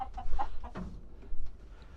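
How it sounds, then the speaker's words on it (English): Hens clucking inside a small solar-lit chicken coop, a few scattered clucks and squawks close by over a low hum, with no talk. "y'all cluck too much."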